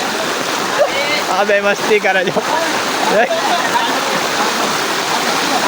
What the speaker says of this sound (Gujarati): અમે તો પાણી જોવા આવ્યા.